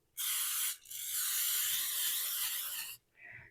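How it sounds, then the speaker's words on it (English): Two hissing bursts of aerosol cooking spray onto a casserole dish, a short one then a longer steady one, followed by a brief softer puff; close and clear, no voices. "we want to make sure we spray it down"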